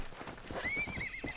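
In the Red Dead Redemption video game, a horse gives a short, high whinny over the soft, rhythmic clip-clop of its hooves; a brief, moderately quiet burst with no talk.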